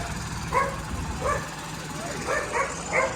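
A dog gives several short, sharp barks and yips at a moderate distance, spaced irregularly, under murmuring voices at an outdoor flood-relief langar food distribution.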